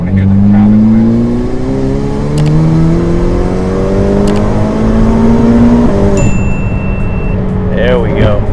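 Ferrari F8 Tributo twin-turbo engine and aftermarket exhaust under way, a loud, steady drone rising through the gears in long climbing sweeps, with a shift and brief whine near the end.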